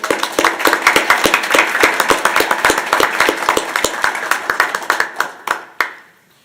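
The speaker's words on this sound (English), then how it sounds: "I think that warrants a round of applause from all of us." At a school district board meeting, a modest group claps, distinct individual handclaps audible in a brisk, uneven rhythm that thins out toward the end and stops with a few last scattered claps.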